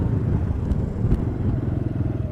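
A Honda Grom motorcycle with a rusted chain, somewhat run-down, gives a steady low engine rumble nearby that carries through the whole stretch without talk.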